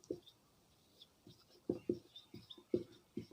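A pen writes on paper in short, irregular scratching strokes, faint and close, with small pauses between strokes.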